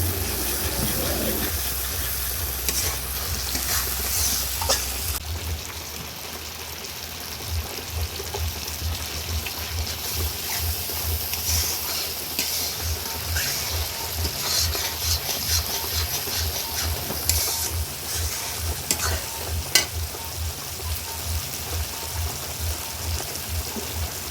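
Biryani masala with chilli powder gets stirred in a pan, a dull rubbing and scraping that repeats in an uneven rhythm over a low background hum, with a few sharper knocks.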